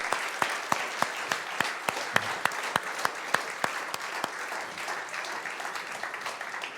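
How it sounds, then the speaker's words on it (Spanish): Church congregation applauding after a prayer: fairly loud, sustained clapping with sharp individual claps ringing out at a steady rhythm throughout. "Un fuerte aplauso al Señor."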